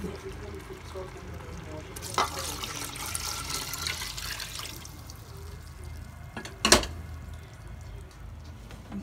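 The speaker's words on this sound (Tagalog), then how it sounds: "Talagyan na po natin ng tubig." Water is poured into a pot of softened, cooked glutinous rice for traditional porridge, giving a soft splashing rush for about two seconds, followed by a few sharp clinks. Quiet talk runs through the clip.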